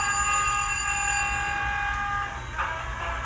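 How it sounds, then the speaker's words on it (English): A Scale Trains Rivet Counter GE AC4400CW Union Pacific model locomotive plays its sound effects: a steady low diesel engine rumble under a sustained horn-like tone that cuts off partway through. "when you turn on the sound to the locomotive, a whole bunch of lights come on"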